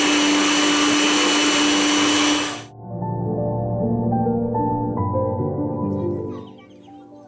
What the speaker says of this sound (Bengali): জিরা, রসুন, আদা একসঙ্গে ব্লেন্ডার করে নেব